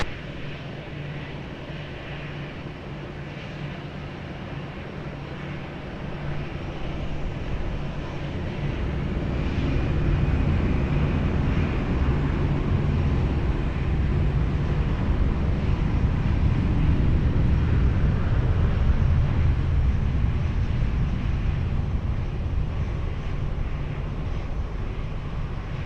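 Airliner taking off from runway 20 at Lisbon Airport: a broad jet roar that swells after several seconds and holds steady and loud, heard from a distance with wind noise.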